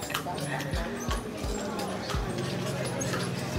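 Horse hooves clip-clop on a street in Vigan at night, a run of sharp near strikes in an uneven trotting rhythm under a steady background hum and crowd murmur.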